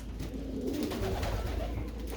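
Soft, low cooing of domestic pigeons at a pigeon farm repeats in a gentle rolling rhythm, close by and alone without any talking.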